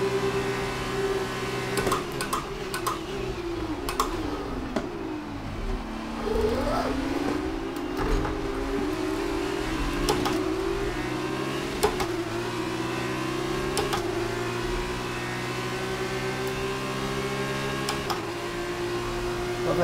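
A high-pitched F2 race car engine in the F1 2019 video game revs up and down through repeated gear shifts, whining steadily with sharp changes in pitch.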